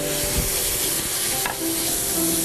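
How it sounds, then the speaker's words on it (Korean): Zucchini stir-fries in a heated pan with a loud, continuous sizzle and crackle, one brief scrape of a utensil partway through. "달군 팬에 호박을 달달달 볶아주세요."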